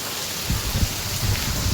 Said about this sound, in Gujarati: તો જોઈ મિત્રો ક્યાં સુધી વરસાદ આવે છે.